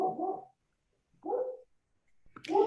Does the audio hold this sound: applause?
no